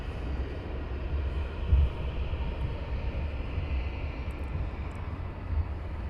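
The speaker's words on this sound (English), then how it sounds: "Oh no, there's another 2 Wizzairs taxiing down" Wizz Air airliners taxiing at Luton Airport give a steady, fairly loud low jet rumble with a constant whine above it, heard from a distance and unchanging throughout.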